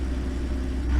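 A truck engine running the C15 sound mod in American Truck Simulator, rolling along on an off-road route, gives a steady, loud low rumble that holds even for a second and swells slightly at the end.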